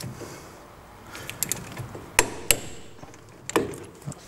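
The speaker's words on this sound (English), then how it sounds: "now we've just tightened the bolts up loosely, we need to torque them" Torque wrench being used on the front brake caliper bolts of a Triumph Spitfire, giving a few sharp metallic clicks and knocks spaced out over a low workshop hum, fairly close.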